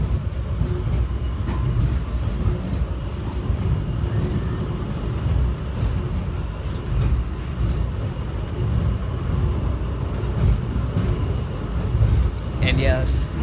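A subway train rumbles steadily along the rails with a continuous low roar and rattling, close and loud, a brief squeal near the end.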